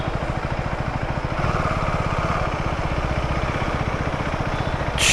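A KTM 390 Adventure X motorcycle sits with its radiator fan running, giving a steady, close whirring hum over a low rhythmic engine pulse.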